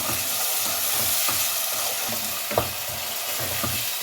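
Potatoes fry with masala in a pan for aloo mongray, a steady, close sizzle running throughout, broken by occasional soft stirring scrapes and clicks, with no voices.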